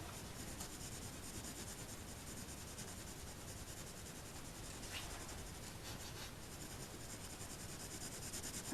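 Coloured pencil lightly shading a pansy petal on paper, a faint, continuous soft scratching close by, steady and gentle with no talk.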